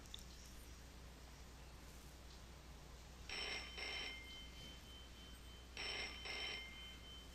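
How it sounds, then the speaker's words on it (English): A telephone in the Broken Sword adventure game rings in two paired bursts, each a double trill separated by a pause, fairly quiet over a faint steady background hum. "Hey, you! It's the phone."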